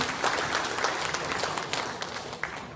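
An audience at an installation ceremony for tourism-group officials in Batam, Indonesia, breaks into steady, dense applause, many hands clapping close together and slowly tapering toward the end.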